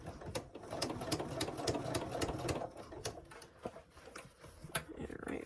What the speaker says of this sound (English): So when you stitch a little bit, reposition it, stitch a little bit more